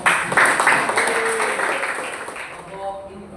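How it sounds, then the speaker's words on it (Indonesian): Audience clapping after a school presentation, a burst of applause that fades over a few seconds, mixed with voices. "Tepuk tangan dulu dong."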